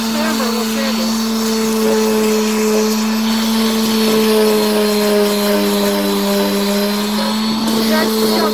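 A power sander scouring rust off a rail piece, a loud steady whine with a strong sustained tone, close and continuous, with a voice speaking over it.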